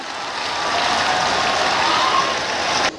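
Crowd at a public gathering with the Uttar Pradesh chief minister applauding in honour of a freedom fighter, a sustained dense wash of clapping that swells, holds steady, then cuts off abruptly.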